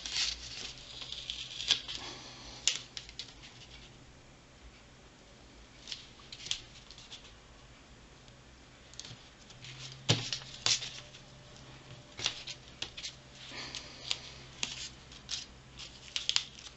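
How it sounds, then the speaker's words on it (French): Paper being cut with scissors, a series of close, quiet snipping and rustling strokes in irregular bursts over a low steady hum, with no talking. "il faut découper en fait au massicot ou au ciseau comme vous voulez"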